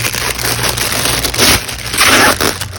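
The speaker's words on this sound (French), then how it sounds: "Je m'excuse un peu pour le petit bruit. Mais hein, c'est un sac, on aime ça déballer." Plastic bag of diamond painting drills being unpacked gives a steady loud crinkling and crushing rustle, with two louder crackling surges near the middle and end, no talking.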